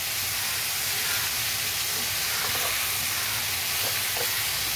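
Continuous sizzling hiss of taro flowers frying with prawns in a hot pan, steady and close throughout with no voices.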